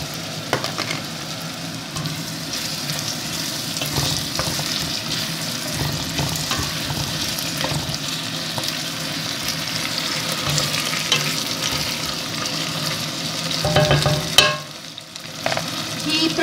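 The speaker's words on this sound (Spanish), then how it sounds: "tenemos aquí ya pochándose la cebolla y el puerro" Onion and leek sautéing in a pan, a steady close sizzle with frequent scraping stirs and a sharper clatter near the end, no talk.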